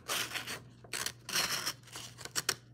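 Scissors snipping through folded paper, a series of close, crisp cuts in short bursts with brief pauses between them.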